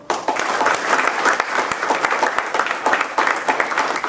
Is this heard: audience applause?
yes